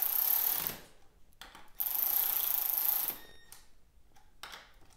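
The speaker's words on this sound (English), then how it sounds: "we have to tighten up the lower bolts first" Lower fork bolts being tightened on a Yamaha WR250F with KYB forks, heard as two bursts of close ratchet clicking separated by pauses, with a few fainter tool clicks afterward.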